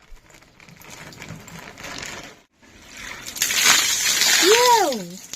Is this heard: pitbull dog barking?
no